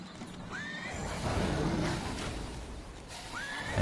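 A horse in the Dungeons 2 video game gives two high neighs, one early and one near the end, over a steady rumbling game background with faint hoofbeats.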